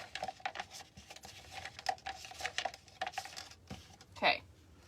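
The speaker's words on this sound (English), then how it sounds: "I'm going to stick them in to my cup, and then I'm just going to start spinning them around until they're all coated." Beads spin and rattle in a cup as they are coated, giving a quick irregular run of small light clicks and ticks with a brighter clatter burst near the end, close and fairly quiet.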